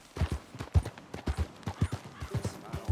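Horse hooves clip-clop in Red Dead Redemption 2, a steady run of sharp, close hoofbeats at walking pace, loud and clear with no talk over them.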